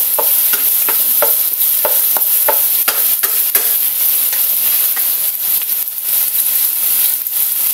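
Garlic and onion sautéing in rendered chicken fat for a simple vegetable stir-fry, a loud steady sizzle broken by repeated spatula scrapes against the pan, close and without talking.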